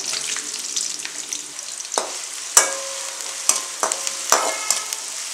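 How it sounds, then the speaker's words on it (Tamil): Chopped onion and green chilli sautéing in a pan for wheat rava biriyani, a steady soft sizzle broken by sharp scraping clinks as a spoon stirs and taps the pan several times. "வெங்காயம் நல்லா வதங்கிருச்சுங்க."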